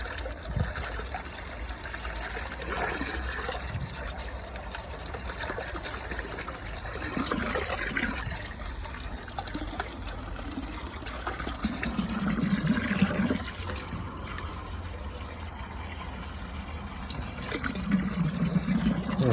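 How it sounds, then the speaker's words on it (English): Water is poured and trickles into an old drain uncovered in a barn being turned into a warehouse. It makes a faint, uneven dribbling with a few louder splashy bursts near the end. "I'll transfer the water here."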